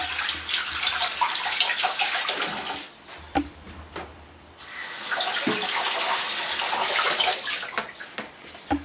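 Tap water runs into a kitchen sink while an item is rinsed during gravlax preparation, a loud close splashing flow that eases for a moment midway and then surges again.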